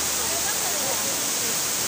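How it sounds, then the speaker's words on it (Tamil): The Silver Cascade waterfall in Kodaikanal roars as water falls forcefully, a constant, loud, broad rushing wash that fills the whole moment without change. "தண்ணி ரொம்ப ஃபோர்ஸாக விழுது, அதான் சவுண்ட் ரொம்ப கேட்குது."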